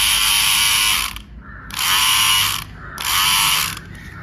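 A repaired electric hair trimmer runs in loud, buzzing bursts with a rattling, ratchet-like mechanical whine, switching on and off three times with short gaps.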